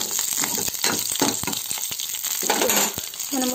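Curry leaves fry in hot oil for mango chutney, a close, crackling sizzle with bursts of spattering and stirring scrapes throughout.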